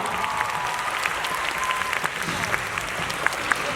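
A fan-meeting audience at a JUN.K special event applauds, a dense wash of clapping from a large crowd with scattered sharper claps and faint voices mixed in.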